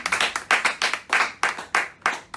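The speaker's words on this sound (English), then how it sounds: "And people can clap." Audience clapping hands at a political campaign talk, a quick burst of sharp claps in a fast, roughly even rhythm, close and clear with no speech.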